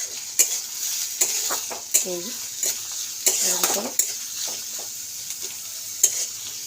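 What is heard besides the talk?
onion frying lightly in butter and refined oil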